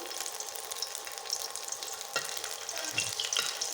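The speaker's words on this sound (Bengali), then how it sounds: "এই যে কিছু রসুন ভেজে নিচ্ছি" Garlic sizzles and fries in a pan with oil, a soft continuous crackle with occasional stirring scrapes, fairly quiet and close, no one speaking.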